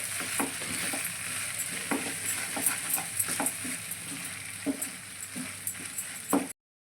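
Maggi noodles and pasta stirred together in a frying pan, a steady close sizzle broken by repeated scraping and clacking strokes of a spoon, with no voices.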